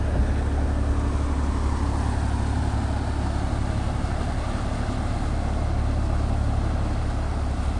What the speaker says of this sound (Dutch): Komt deze boot weg.